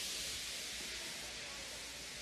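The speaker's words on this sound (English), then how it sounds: "He just let off steam feebly." Gordon, the big express steam engine, lets off steam feebly: a soft, steady, breathy hiss that holds at an even level throughout without any other sound.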